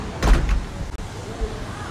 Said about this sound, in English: The two doors slam shut.